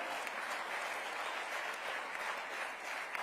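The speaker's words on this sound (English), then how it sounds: "A big round of applause for Dr." An awards-ceremony audience applauds the project director of the Aditya L1 solar mission, dense sustained clapping from a large hall crowd that holds a steady level throughout.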